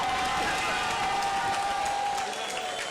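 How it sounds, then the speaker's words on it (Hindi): Sustained crowd applause fills a large gathering at a political speech event, dense and steady for the full stretch without a break, with a faint tonal hum running underneath. "जोरदार तालियां।"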